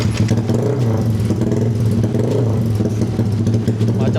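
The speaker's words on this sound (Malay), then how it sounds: "dah dengar bunyi motor ke?" A Yamaha Y15ZR motorcycle engine with a 70mm bore kit runs steadily up close, a loud continuous mid-pitched drone with slight revving fluctuations throughout.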